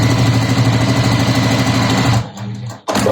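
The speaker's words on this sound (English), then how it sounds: "So let's just stitch down there." A sewing machine stitches fabric strips in a fast, steady, loud mechanical whir, then stops abruptly near the end with a brief click and a restart.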